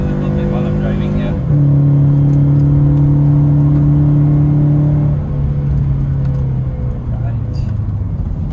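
A Toyota 86 engine drones steadily while climbing a winding mountain road to Genting Highlands, a sustained mid-pitched hum inside the cabin that shifts slightly in pitch partway through, with a person talking over it.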